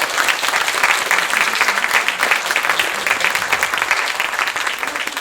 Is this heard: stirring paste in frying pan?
no